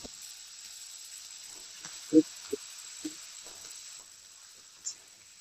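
Cinnamon, cloves, dried red chillies, stone flower and curry leaves frying in oil for a village-style chicken fry give a faint, steady sizzle, broken by a few sharp knocks of a spoon against the pan.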